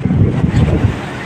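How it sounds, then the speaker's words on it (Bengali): Wind-tossed sea waves churn at Digha beach, a loud, steady rumble of surf with heavy wind buffeting the microphone throughout. "গৌরী বই দেখো জলগুলো কেমন একদম হাওয়ায় উথাল পাথাল করছে।"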